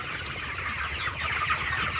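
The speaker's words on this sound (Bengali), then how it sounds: "তো এইটাই আমার মুরগি আছে" A flock of broiler chickens, about 1.3 kilograms each at 24 days old, clucks and chatters continuously in a dense overlapping chorus close by, with no talking.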